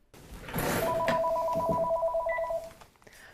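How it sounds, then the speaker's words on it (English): A telephone rings once in a sustained electronic trill lasting about two seconds, clear and fairly close, preceded by a soft rustle and ending in near silence. "the phone started ringing off the hook"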